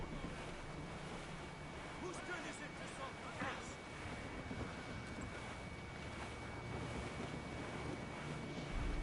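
Strong wind at sea in Assassin's Creed Rogue, a steady broadband roar of gusts and surf against a sailing ship, constant and fairly loud throughout, with faint voices in the background.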